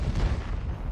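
An M53/M55 self-propelled artillery gun fires in World of Tanks on the Küste map, giving one deep booming shot that rumbles heavily through the second.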